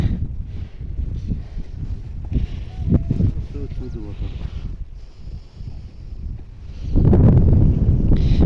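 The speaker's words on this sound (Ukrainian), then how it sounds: "Ох, вітер." Gusty wind buffeting the microphone outdoors while people talk, with a stronger roaring gust near the end.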